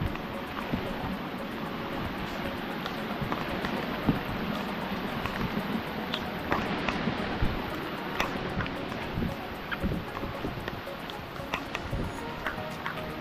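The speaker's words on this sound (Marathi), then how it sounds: "पाऊस खूप जोरात आलाय." Heavy rain pours down in a dense, unbroken roar near a waterfall in Raigad, with scattered sharper drops splashing throughout.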